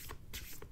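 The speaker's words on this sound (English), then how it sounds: "with my affirmation cards, I shuffle them" A deck of affirmation cards is shuffled by hand, giving quick, soft riffling swishes in two or three short bursts, close but very faint, with no talking.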